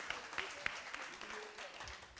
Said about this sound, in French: Vous allez vous applaudir bien plus fort.